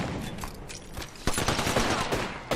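Dense gunfire in an Apex Legends scrim crackles in rapid bursts, close and loud, with overlapping shots and a heavy barrage in the second half.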